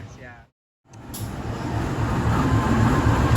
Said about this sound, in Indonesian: Ini KA Brawijaya dengan relasi Malang Jakarta Gambir via Semarang.